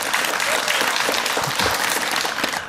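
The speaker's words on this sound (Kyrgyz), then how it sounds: "ушул кол чабуулар" Audience applause at a Kyrgyz televised talent show, dense steady clapping from a large crowd that fills the whole span at a constant loud level.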